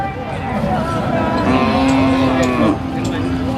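Cattle at the Sikhoraphum livestock market give one long, drawn-out moo close by, over a steady hubbub of voices and market crowd noise.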